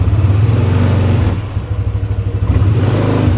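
Yamaha Nmax scooter fitted with a Daytona 1500 rpm clutch spring, engine revving and pulling up close and loud, with a brief dip in the middle before the throttle comes back on.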